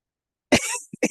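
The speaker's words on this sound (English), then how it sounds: "I got to clear my throat." A single rough throat clearing, a harsh burst followed by a short trailing rasp and a quick second grunt, close and fairly loud with no talking.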